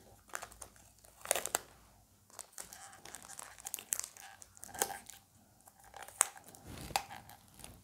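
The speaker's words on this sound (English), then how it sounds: "we're going to tape these two together" Adhesive tape is torn and pressed to join two plastic straws for a school science model: repeated sharp, close ripping bursts with crinkling handling between them.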